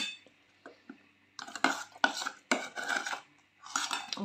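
Dishes, pots and cutlery clatter and clink in a home kitchen during Sunday cooking, with scattered knocks early on building into denser bursts of clanking near and fairly loud, no talk.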